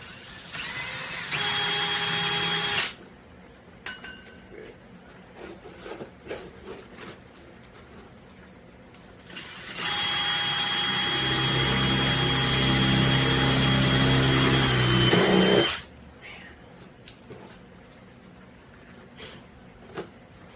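A power drill whirs in two bursts, a short one then a longer one that bogs down lower before stopping, with quiet handling noises between.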